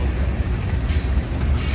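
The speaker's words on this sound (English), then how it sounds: "This is a Union Pacific, I believe, Manifest train." A Union Pacific manifest freight train passing near Martinez station, a steady loud broadband rumble and rolling wheel noise, close and continuous with no talking.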